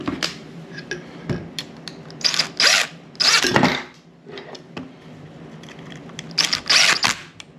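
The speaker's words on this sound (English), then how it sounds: "See if we get these screws in." Screws being driven into a refrigerator fan assembly during a repair, with several short whirring bursts of a power driver, close by and fairly loud, separated by quieter handling clicks.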